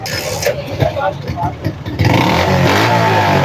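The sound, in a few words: modified motorcycle with carburetor and altered exhaust revving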